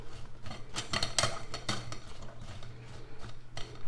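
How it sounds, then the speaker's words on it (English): A spoon stirs sliced cucumbers tossed with salt in a bowl, giving a quick run of close, light clinks and wet scrapes with no talking. "Stir it up."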